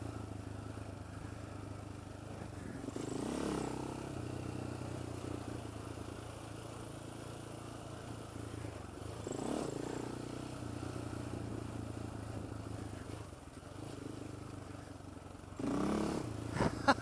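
A Polaris Outlaw 525 ATV engine hums steadily while riding, with several surges of throttle and revving that rise and fall, moderately loud and close throughout.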